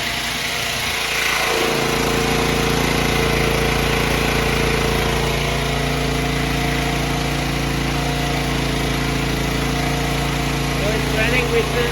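A Champion 100520 tri-fuel generator engine runs on gasoline, a loud steady mechanical drone with a constant hum that holds even throughout after a brief start.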